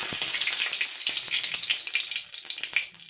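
A bay leaf frying in hot oil in a wok for an Odia potato curry, giving a steady bright sizzle with small crackling pops throughout, close and continuous with no talk.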